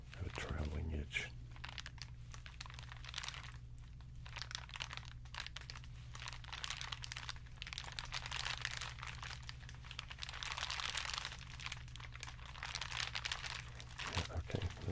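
Continuous crinkling of material, with crisp rustles and crackles steady across the whole stretch over a low constant hum, with a person speaking at times.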